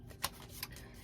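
Tarot cards being shuffled by hand, with two short, soft riffling bursts against a faint, quiet background.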